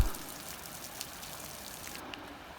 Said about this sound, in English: The rain also reduces visibility and makes the terrain slippery.